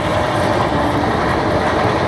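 Garib Rath Express running steadily on the rails as it passes Shamsi station, a continuous dense rumble and rattle heard from on board, loud and unbroken with no voices.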